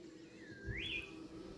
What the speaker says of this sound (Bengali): দূরে পাখির আওয়াজ